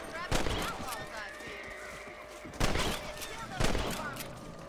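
Rifle shots at rabbits in the western game Red Dead Redemption: three loud, sharp cracks come a couple of seconds apart, each ringing out over quiet outdoor ambience with faint background sounds.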